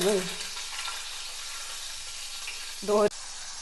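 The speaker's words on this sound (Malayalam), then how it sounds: "എണ്ണ ചൂടായി ഇനി ഇതിലേക്ക് ഓരോന്ന് ഇട്ട് കൊടുക്കുക ചടപടാന്ന് ഇപ്പോൾ പൊട്ടിട്ടോ" Hot oil sizzles and crackles steadily as chilies fry, with short bursts of voice at the start and again near the end.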